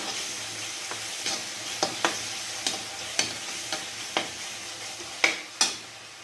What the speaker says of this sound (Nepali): यसमा कलरको लागि चाहिँ हजुरहरूले अलिकति खुर्सानी राखिदिनु होला र यसलाई पनि फेरि एकछिनसम्म भुट्नु होला